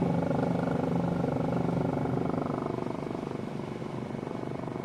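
Simulated helicopter engine and rotor from Microsoft Flight Simulator 2020, a continuous throbbing drone with rapid rotor pulsing that softens slightly partway through, steady and close, with no talking.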